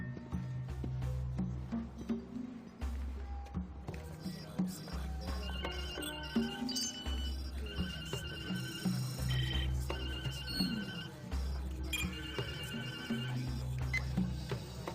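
Telephone rings in a repeating electronic pattern of chirping bursts over a low humming music bed, in a scene from a Hallmark movie, with no talking.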